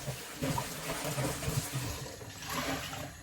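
Tap water running steadily while something is washed in a sink, a soft, continuous splashing flow heard close by with a slight change in tone partway through.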